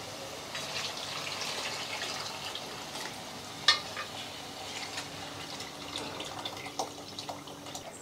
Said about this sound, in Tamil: இப்போ வந்து புளி தண்ணி ஊற்றிக்கலாம்.